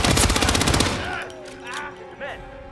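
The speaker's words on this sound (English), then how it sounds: "Gunshots in the vicinity!" A loud, rapid burst of automatic gunfire in the video game Hitman: Absolution for about a second, then it stops and voices are heard.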